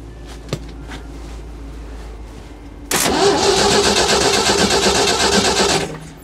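Engine of a 1990s tracked auger machine parked over ten years cranking without firing: quiet background ticks, then a sudden loud, steady whirring crank lasting about three seconds before it stops.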